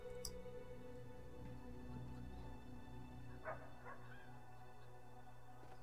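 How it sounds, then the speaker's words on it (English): A dog barks faintly in the distance inside the video game Brothers: A Tale of Two Sons, a few soft yips over a steady ambient game soundscape. "Is there a dog barking in there?"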